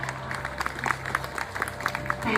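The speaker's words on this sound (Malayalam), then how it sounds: "വലിയൊരു കയ്യടി വേണം, ഇത് പോരാ." An audience at a stage concert featuring mridangam and tabla players claps in a brief, moderate round of applause, with a voice heard over the clapping.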